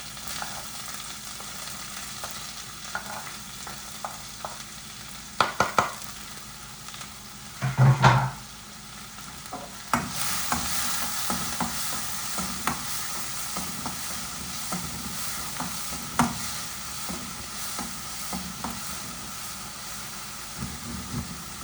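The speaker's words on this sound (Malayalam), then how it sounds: "ഒരു സവാളി, ഒരു പച്ചമുളക് ചെറുതാക്കി അരിഞ്ഞത്, ഒരു ലേശം കറിവേപ്പില പിന്നെ നമുക്ക് വഴറ്റി കൊടുക്കാം." Sliced onion, chopped green chilli and curry leaves sautéing in a pan give a continuous soft sizzle, broken by sharp spatula knocks and scrapes that grow busier as the stirring picks up.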